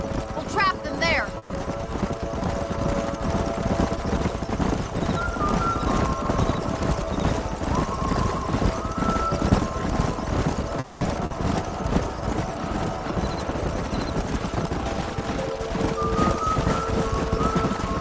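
Horses gallop with rapid, steady clip-clop hoofbeats in the Red Dead Redemption video game, the loud drumming running throughout under wind noise, with an occasional whinny and a voice talking.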